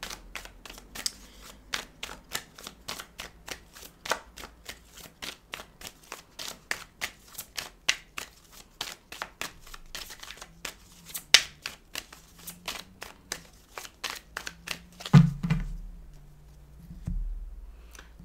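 Oracle cards shuffled by hand: a steady run of crisp, rapid riffling clicks close to the listener, followed near the end by a couple of soft thumps as the deck settles.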